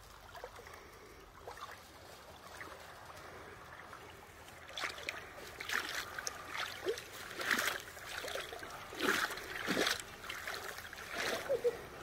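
Someone wades through river water wearing clogs, with soft irregular splashes and sloshing steps that grow stronger and more frequent, fairly close but low in level.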